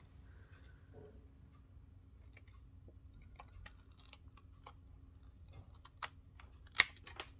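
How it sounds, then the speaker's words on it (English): Scissors cut away excess card around bike-circle rings on a handmade card, a string of faint, crisp snips that grows sharper toward the end, with a louder snap near the finish in a quiet room. "grab your scissors and just cut"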